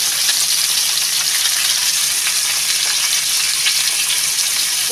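Snakehead fish pieces fry in hot oil on their second side, a loud, even, crackling sizzle that runs unbroken and close throughout.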